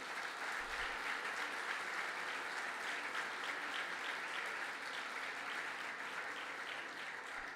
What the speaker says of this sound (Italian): io coglierei proprio l'occasione per fare un grande applauso